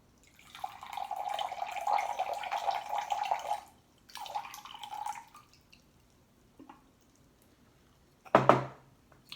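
Water poured over green tea leaves for a short brewing, a small stream splashing for a few seconds, then a second shorter pour, ending in a brief louder splash.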